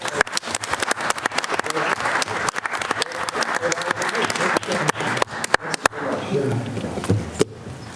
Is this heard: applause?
yes